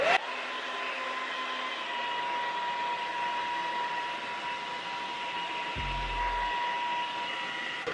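A hair dryer blows continuously on hair, a steady loud airy whoosh held for the full stretch, with a short low thump near the end.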